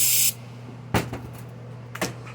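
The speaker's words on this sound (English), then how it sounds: "Give her a little squirt." A short hiss of spray squirted into a Dolmar PS-510 chainsaw with a carburetor issue, one brief close burst followed by a few light clicks and knocks of handling, no talk.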